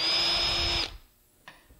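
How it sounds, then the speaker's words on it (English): A power drill boring holes for drawer slide screws in cabinet work whines loudly and steadily up close for under a second, then stops, followed by a brief faint knock. "drill them, and drive the screws in"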